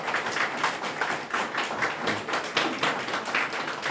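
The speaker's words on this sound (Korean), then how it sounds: "박수를 너무 길게 쳐줘서 감사합니다" Applause from the audience at a press conference announcing a Korean local election candidate's pledges: steady, sustained clapping from a room of people, fairly close, continuing without pause for several seconds.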